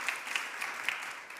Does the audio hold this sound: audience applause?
yes